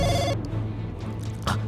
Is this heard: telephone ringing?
yes